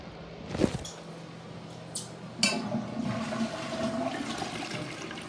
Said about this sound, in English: Flushes per usual.